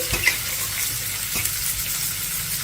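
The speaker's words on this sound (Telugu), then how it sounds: "ఉల్లిపాయ ముక్కలు లైట్గా వేగిన తర్వాత ఈ క్యాబేజీని వేసేసుకుందాము" Sliced cabbage and onion pieces fry with curry leaves in a pan, a steady, close sizzle with a few soft knocks of stirring, and no voices.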